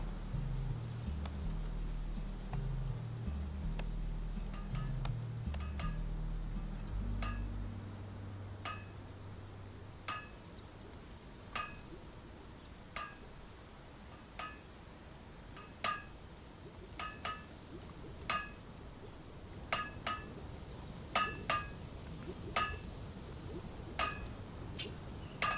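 A miner's pick striking stone and ore veins in the Legends of Aria video game: a steady series of sharp metallic clinks and ticks that grow denser later, over a low tonal background that fades out early.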